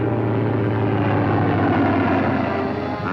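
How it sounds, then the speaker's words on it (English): Fleet Air Arm propeller aircraft flying overhead in wartime, a loud, steady engine drone that holds throughout with a low rumbling hum and no break. "planes of the Fleet Air Arm and Coastal Command patrol the skies and search the seas"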